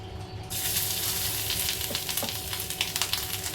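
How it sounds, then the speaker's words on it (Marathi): Fresh grated coconut roasts in hot oil, a constant close sizzle that starts abruptly and carries faint scraping stirs and small crackles over a low background hum, without any talking. "ओलं खोबरं भाजताना आपल्याला तेल घालायचं आहे"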